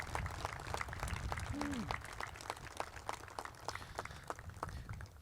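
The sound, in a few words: applause at Wabash College commencement ceremony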